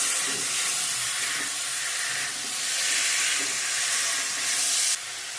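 Potato, tomato and eggplant curry sautés in hot oil in a pan, a loud, steady, close hiss of sizzling that stays constant throughout without talking.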